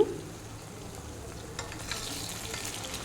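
Brinjal pulao being stirred in a pan makes a steady, soft frying hiss, with faint scraping strokes of a spoon in the latter half, close and fairly quiet.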